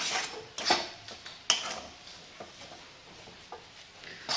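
A spoon scrapes and taps against a pan while potato filling with coriander for Kolhapur-style batata vada is mixed, the clinks irregular and fairly quiet.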